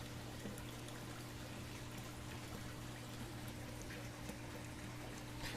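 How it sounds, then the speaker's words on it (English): Water drains from a 150 gallon aquarium during a big water change, a faint, steady trickle and pour with a low constant hum beneath, continuous and without talk. "So this is going to be a big water change"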